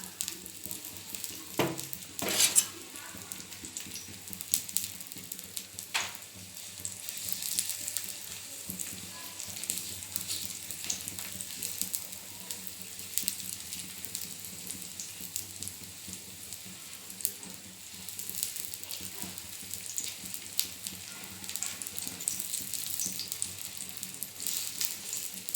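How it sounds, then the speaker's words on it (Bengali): Egg paratha batter spread with a spatula in a hot pan, a soft steady sizzle throughout with a sharp burst of crackling near the start. "এবার এটাকে খুন্তি দিয়ে আমি ছড়িয়ে দেবো।"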